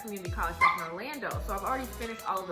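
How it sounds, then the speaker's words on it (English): A pet dog shut in a cage whines and yips in short, rising cries, with a few sharp barks, heard over and between someone talking nearby. "if you guys hear moaning and crying, that's my dog in the cage because she wants to get out"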